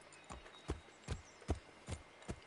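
A horse's hooves clip-clop in Assassin's Creed III Remastered, six evenly spaced soft thuds at a steady walking rhythm, faint and alone.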